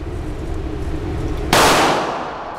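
One sharp, loud gunshot cracks out at a shooting range, standing out against a steady low background and trailing off into a short decay.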